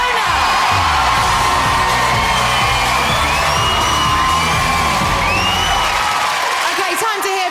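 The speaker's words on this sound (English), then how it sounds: "give her a huge round of applause." A TV studio audience at a live talent show cheers and whoops loudly while music plays, a dense sustained roar of crowd noise that drops away near the end.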